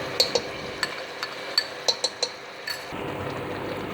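Curd and onion paste sautéing in a pan for aloo gosht, with a spoon clinking and scraping against the metal in sharp, scattered taps over a faint steady sizzle, close by with no talk.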